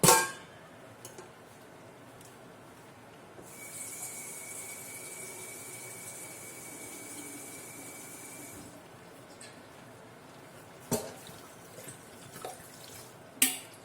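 Water poured into a pot of Nigerian egusi soup with smoked turkey and stockfish, a steady pour lasting several seconds, bracketed by a few sharp metallic clanks of the pot and utensils, close by.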